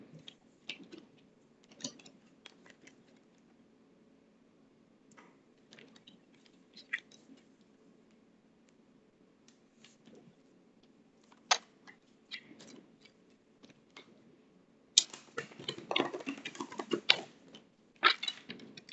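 Sparse soft clicks and taps, then a quick, dense rattling burst of cards being riffled and shuffled close up near the end.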